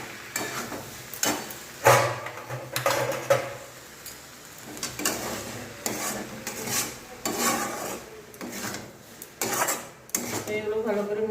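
Chow mein with egg and chicken is tossed with spices in a pan, with continuous rasping scrapes and metallic clanks of a utensil against the pan in an irregular, busy rhythm, fairly close and loud.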